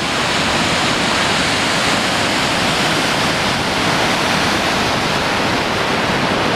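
The Boulder River pours over the edge of a natural rock spillway near Big Timber, Montana, making a loud, steady, broadband roar of rushing water with no voices.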